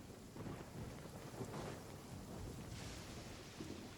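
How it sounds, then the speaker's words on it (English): Rain falls steadily with low rolling thunder rumbling in Genshin Impact, a continuous wash of moderate loudness with no talking. "Let's get out of the rain."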